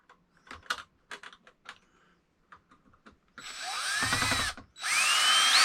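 A power drill drives screws into an electrical outlet during an install, sounding as two sustained whirring bursts near the end with rising pitch, after a stretch of scattered handling taps and clicks.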